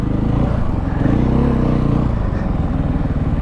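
A 2016 KTM 500 EXC dirt bike engine runs hard during an off-road test ride, a loud, close, throbbing single-cylinder drone with brief rises and dips in revs.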